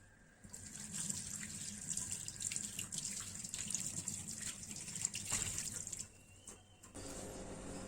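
Tap water runs steadily into a sink as hands are washed before a prenatal physical examination, a close continuous splashing that stops abruptly near the end, leaving a faint drip and quiet room tone.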